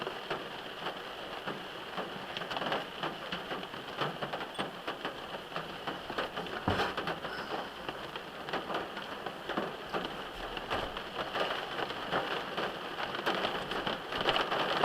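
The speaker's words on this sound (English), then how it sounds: "The rain will keep coming down." Steady rain falls on a surface, likely a vehicle, a continuous even patter of drops with a faint thud partway through and no voices.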